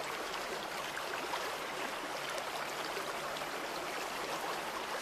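Steady rushing of stream water flowing continuously, a broad even wash with no voices, fairly close and constant throughout.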